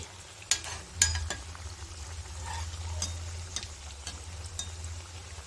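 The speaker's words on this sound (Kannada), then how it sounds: "ಸ್ಟೌವ್ನ ಮೀಡಿಯಮ್ ಫ್ಲೇಮಲ್ಲಿ ಇಟ್ಕೊಂಡು ಫ್ರೈ ಮಾಡ್ಕೊಳ್ಳಿ ಎರಡು ಕಡೆಯೂ ಚೆನ್ನಾಗಿ ಗೋಲ್ಡನ್ ಬ್ರೌನ್ ಬರೋವರೆಗೂ ಫ್ರೈ ಮಾಡಿ ತಗೊಳ್ಳಿ" Veg rolls deep-frying in oil over a medium flame, a steady low sizzle and bubbling throughout, with a few sharp clinks of a utensil near the start and faint scraping later.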